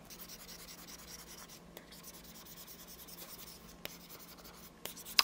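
A plastic-tip S Pen scratches across a Galaxy Book screen with a matte anti-fingerprint film, a soft continuous close-up scratching and rubbing with a few small taps, quiet and alone.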